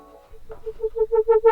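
Synth transition effect preset: a short rising sequence of pulsing tonal blips that grow louder and quicker over about a second and a half, alone and close.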